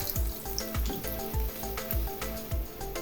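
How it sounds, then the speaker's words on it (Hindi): Dahi vada batter deep-frying in hot oil over a medium flame, a steady bubbling sizzle with small pops and faint repeated clinks or taps in a loose rhythm. "हाथ की उंगलियों से प्रेस करते हुए तेल में डाल देंगे"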